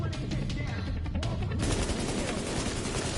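Heavy automatic gunfire in The Division 2 during a live-streamed open beta, loud continuous sustained bursts with a dense rattling texture, briefly broken before resuming at full intensity.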